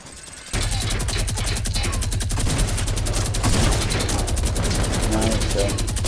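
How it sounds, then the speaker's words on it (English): Minigun fire in the Fortnite video game begins after a brief pause and continues as a loud, rapid, unbroken stream of shots, with players talking over it. "Just a little minigun action."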